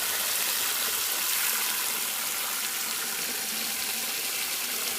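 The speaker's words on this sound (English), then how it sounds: "Filling up the bucket of water." A hose runs water into a bucket outdoors during a bike wash, giving a steady, broad hiss and rush that stays even and fairly close throughout, with no voices.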